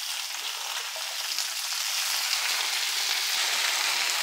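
Washed green beans hit a pan of frying chillies, producing a loud, continuous sizzle that holds steady and close throughout with no talking.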